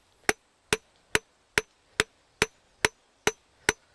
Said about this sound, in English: So now I'm cross-peening what will become the leaf